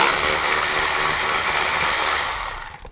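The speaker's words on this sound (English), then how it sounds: "So I'm gonna take this nut off for this bracket." A power tool driving a socket whirs in a loud, steady high-pitched spin to take a bracket nut off a 2000-2006 Chevy Tahoe during valve cover gasket work, running close for over two seconds before winding down and stopping.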